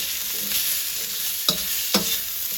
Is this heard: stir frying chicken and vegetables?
yes